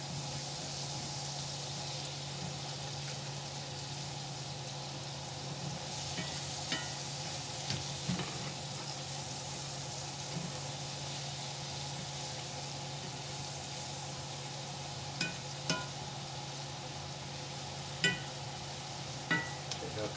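Chicken frying in a pan gives a steady low sizzle throughout, with a few sharp clicks and utensil taps near the end, close and quiet.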